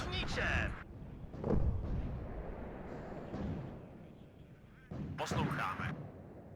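Czech Dana self-propelled howitzers firing in the wartime strategy game WARNO, a few heavy booming shots spaced a second or more apart, with a player talking over them.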